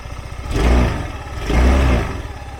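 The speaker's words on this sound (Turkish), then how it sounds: "çok çok bağırmayan ama böyle tok, dolgun güzel bir de egzoz sesi var" A SYM Jet 14 Evo 200 scooter engine revved twice with the throttle, each rise swelling into a full, deep exhaust note before falling back to idle, recorded up close.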